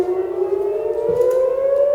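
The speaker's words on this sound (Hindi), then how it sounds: "सायरन की आवाज वहां पर सुनी भी जा रही है" Civil defense siren sounding in Israel during an Iranian missile attack, a steady rising wail with clear harmonic tones, loud and continuous with no voices.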